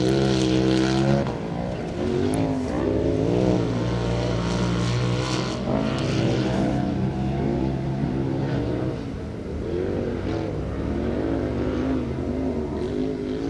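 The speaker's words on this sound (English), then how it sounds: "And there goes Hancock out of Whitman, Arizona, with his sixth lap in." Off-road ATV and side-by-side race vehicles roar past at Glen Helen Raceway, engines revving and rising and falling in pitch as they accelerate, loud and continuous with no talk.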